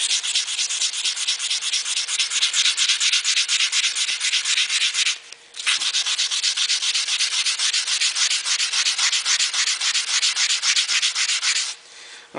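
Steady, loud back-and-forth rubbing of 240-grit sandpaper on stainless steel car trim, continuous with a brief pause around midway and a short dip near the end, no voices.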